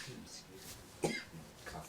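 One short, sharp cough stands out against quiet background voices.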